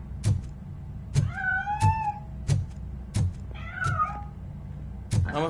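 A cat in the video game RoboCop: Rogue City meows twice, close and clear, with rising and falling calls. Steady rhythmic thuds keep going underneath, and nobody speaks.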